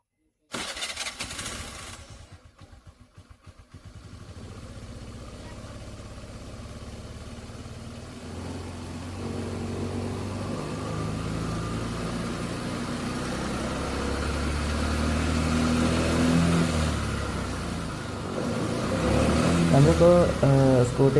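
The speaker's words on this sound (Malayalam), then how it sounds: "ഞാനിപ്പോൾ സ്കൂട്ടിയിൽ നിന്ന് സ്റ്റാർട്ടാക്കാൻ വേണ്ടി പോവാണ്. എൻജിൻ സ്റ്റാർട്ടാക്കി കാണിച്ചു തരാം." A scooter engine cranks and catches after a couple of seconds, then idles and is revved up in rising surges, growing louder toward the end, heard close by.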